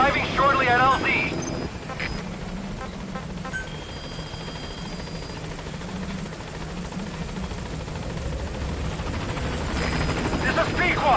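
Helicopter rotor wash from Metal Gear Solid V: The Phantom Pain, a steady loud thrum sustained as it comes in to land at the LZ, with brief radio voices at the start and end.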